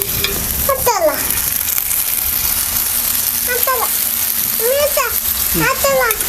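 Oil sizzles steadily in a hot pan while ghavan is cooked, a continuous bright hiss running throughout as children's voices chatter over it.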